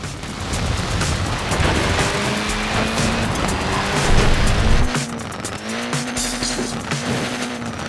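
A Mini in Forza Horizon 4 squeals its tyres loudly over a revving engine. Sliding squeals and engine whine run continuously, swell around the middle, then shift to a sharper, lighter tyre chirp with changing engine pitch.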